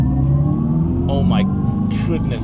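A 2025 Dodge Charger Daytona Scat Pack EV launching hard with its simulated exhaust, a loud, steady low rumble throughout while a driver exclaims over it.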